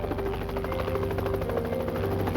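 Helicopter circling overhead during a police and FBI search, a continuous rhythmic rotor thump with steady engine whine, moderately near and alone.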